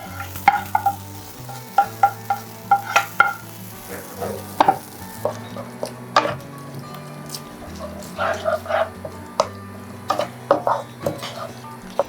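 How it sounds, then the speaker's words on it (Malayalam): A fried mustard-seed tempering gets stirred into a shallot onion theeyal, giving repeated close scraping and clinking of a spoon against the pan under a soft sizzle, in irregular bursts. "നമുക്ക് തീയലിലേക്ക് കടുക് വറുത്ത് ചേർത്ത് കൊടുക്കാം."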